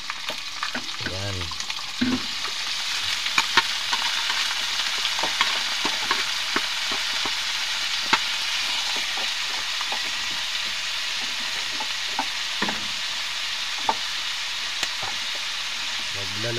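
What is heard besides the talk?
bitter gourd (ampalaya) frying in a pan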